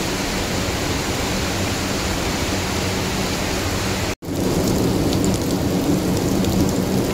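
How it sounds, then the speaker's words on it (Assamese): Heavy rain pours down after a snowfall, a dense, steady roar of water that fills the whole stretch, broken only by a brief cut near the end before resuming just as loud. "এয়া চাব পাৰে চবৰে নেৰা নেপেৰা বৰষুণ"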